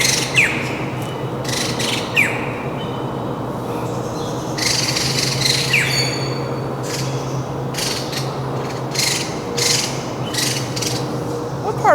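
Many birds squawk and chirp in quick bursts over a steady mechanical hum, a busy chorus filling a zoo aviary holding over 100 birds.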